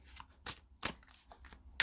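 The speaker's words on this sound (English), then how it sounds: "Okay, so let me shuffle these cards." A deck of tarot cards being shuffled by hand: several quick, papery riffling bursts close up, separated by short pauses.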